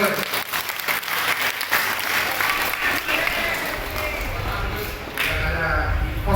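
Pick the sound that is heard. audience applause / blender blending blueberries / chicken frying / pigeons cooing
audience applause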